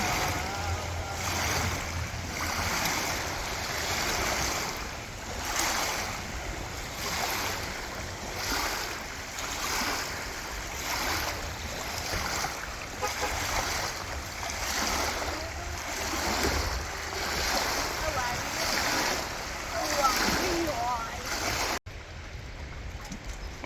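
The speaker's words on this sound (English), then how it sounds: "it's really, really windy today" Steady, roaring wind buffets the microphone with broadband rushing noise that swells and dips throughout, with no voices.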